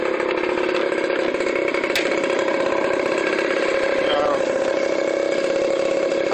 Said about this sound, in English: That's me moped.